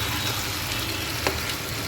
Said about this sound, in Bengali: পোস্ত বাটা দিয়ে দিলাম। পোস্ত বাটা ভালো করে নেড়ে নেব।